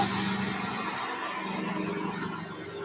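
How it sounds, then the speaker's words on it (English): A large truck rumbles past outdoors in Ocean City, Maryland, a steady broad roar that stays loud throughout and then eases slightly near the end. "But a large truck just must have gone by."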